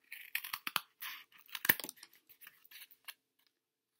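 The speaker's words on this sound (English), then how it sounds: "And then you're going to take your scissors and cut those areas off," Scissors snipping through cardboard close up, a string of short crisp cuts and crunches with brief pauses, ending in quiet.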